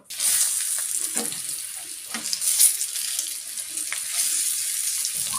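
Brinjal fries in oil in a pan over a slow flame, giving a steady, close hiss of sizzling with occasional soft scrapes and stirring taps throughout.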